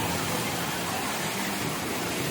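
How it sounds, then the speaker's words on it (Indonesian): Bantimurung waterfall pours in a steady, unbroken broadband roar, a loud, close wash of falling water with no pauses or voices. "air terjun Bantimurung"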